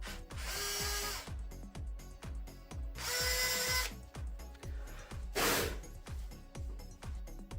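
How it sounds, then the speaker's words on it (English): Power drill boring two guide holes into an MDF panel, with a rhythmic ticking of the motor under two long whining drill bursts and a shorter third burst, close and clear with no voices. "I will mark and drill two guidance holes in the MDF panel."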